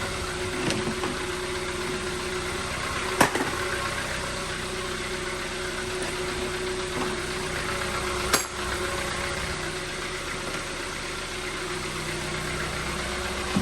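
A 2013 Kia Soul with 185K miles idles steadily at close range with a constant low engine hum and faint mechanical ticking, broken by two brief sharp clicks, and no talking.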